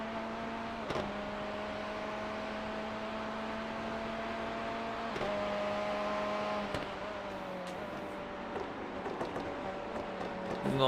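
An LMP2 prototype race car engine in iRacing during the 12 Hours of Sebring endurance race, a steady high-pitched engine whine droning with shifting pitch steps, heard from inside another car with no talk over it.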